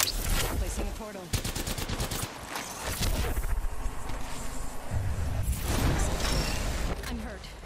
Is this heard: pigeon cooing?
no